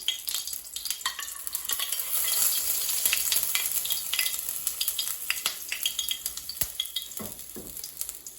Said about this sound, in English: oil's gone too hot for me, and I don't want it to splatter everywhere at the moment. Just wanted to flavour the oil with the chilli.